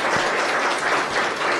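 Crowd applause honoring a senator at a gathering on acupuncture practice, steady dense clapping sustained at close, even loudness throughout.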